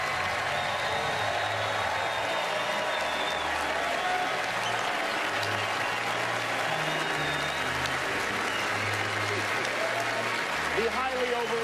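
An audience breaks into sustained applause for Meryl Streep, dense steady clapping from a large crowd filling the room throughout.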